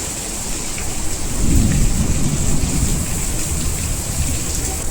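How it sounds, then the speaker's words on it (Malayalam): Heavy rain pours steadily while a deep roll of thunder rumbles through the middle, with no talking. "ഈ ഇടി മിന്നലൊക്കെ ഇടി സൗണ്ട് ഒക്കെ കേട്ടിട്ട്"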